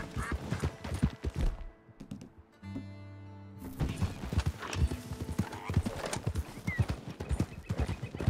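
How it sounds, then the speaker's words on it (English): A horse in a video game trots after the player, its hooves clip-clopping in a quick, even rhythm, broken midway by a loud, drawn-out whinny before the hoofbeats resume close by. "Mate, why is this horse following me?"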